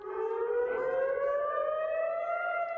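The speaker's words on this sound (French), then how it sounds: "Très vite, les sirènes d'alerte retentissent dans le centre" Air raid civil defense sirens in Israel wailing loudly and steadily, one rising tone holding through the stretch, with no voices over it.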